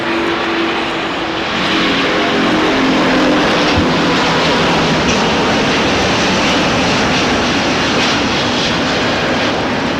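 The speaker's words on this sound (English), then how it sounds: "just taking off, ladies and gentlemen, is our Lufthansa A380-800 headed back to Munich" Lufthansa Airbus A380-800 taking off from Los Angeles airport, a loud, sustained broadband jet roar with low engine rumble that holds steady throughout, heard from a distance with no talking.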